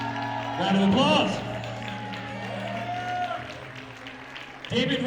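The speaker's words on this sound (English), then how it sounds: "Round of applause." An audience applauds the cast of a stage play as they are introduced. Clapping and cheering swell for a couple of seconds, then stay steady under a voice speaking over a PA with sustained music tones.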